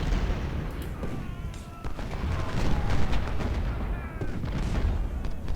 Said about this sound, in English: Our 6-pounders need to move up a little bit to have more effective fire on the enemy